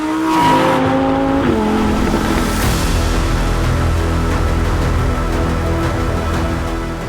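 A Lamborghini Murcielago LP670-4 SV with its naturally aspirated V12 revs hard and loud up close, the pitch dropping from a high wail into a sustained, dense roar that fills every moment without any voices.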